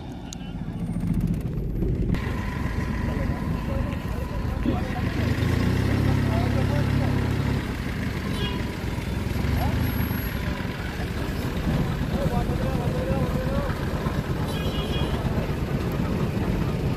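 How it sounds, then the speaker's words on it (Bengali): A trawler boat's engine drones steadily on a river crossing, a low continuous rumble close by, mixed with people talking and outdoor ambience. "দেখো একটা ট্রলার সামনে বোট আসছে"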